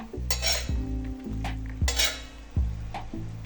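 Stirring and scraping on a hot griddle with a steady sizzle underneath, punctuated by a few sharp metallic clinks of a spatula.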